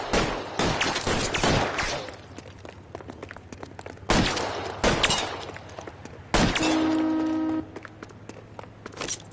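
Bursts of gunfire in L.A. Noire, clusters of sharp cracks and rapid volleys separated by brief lulls, with a sustained tonal ring near the end.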